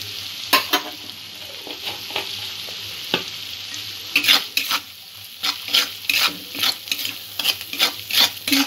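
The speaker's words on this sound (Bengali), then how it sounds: "মশলাটা একটু ভালো করে কষিয়ে নেব" Spices with coriander powder fry in hot oil under a steady sizzle, with a spoon scraping and stirring in bursts that grow quicker and more frequent toward the end.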